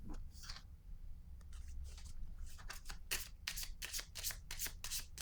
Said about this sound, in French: Je vais déposer une carte sur le pouvoir.